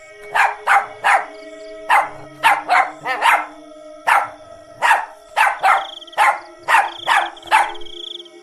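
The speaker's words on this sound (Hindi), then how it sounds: "वो जोर जोर से भौंकने लगता है।" A dog barks loudly and repeatedly at night, sharp close barks coming in quick bursts of two or three with short pauses between.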